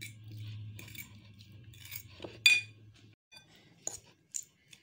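Mayonnaise filling being stirred with black pepper and salt in a bowl for a sandwich: light, scattered clinks and scrapes of a utensil against the dish, a few sharp taps near the end over a low hum.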